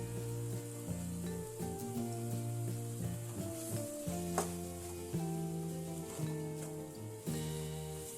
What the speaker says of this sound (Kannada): ಅರ್ಧ ಹೋಳು ತೆಂಗಿನ ತುರಿ ಸೇರಿಸಿ ಫ್ರೈ ಮಾಡಿ